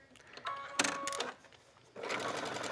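A sewing machine stitches a buttonhole into a ribbed skirt waistband in short close bursts, pausing briefly between runs of rapid mechanical stitching.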